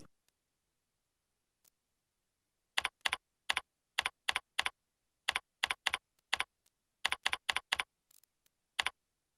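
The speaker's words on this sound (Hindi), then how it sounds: "अब आप यहां टेक्स्ट टाइपिंग शुरू कर सकते हैं।" Keystrokes on a computer keyboard while text is entered in Microsoft Word 2010, about twenty crisp clicks in short irregular bursts with quiet gaps between them and no voices.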